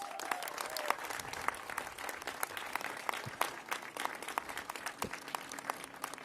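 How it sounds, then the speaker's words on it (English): Steady applause from an audience at a Women's Equality Day rally, many hands clapping with sharp individual claps standing out, moderately distant and continuous. "Let's give them a round of applause"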